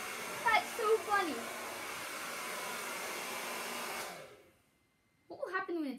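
A hair dryer blows ping pong balls with a steady loud rushing hiss, broken by brief light clatters from the balls early on. The airflow cuts off about four seconds in, and a voice speaks briefly near the end.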